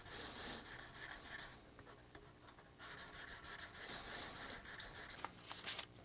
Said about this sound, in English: I'm going to take this 1200 grit sandpaper. I'm going to wrap this around our fret rubber.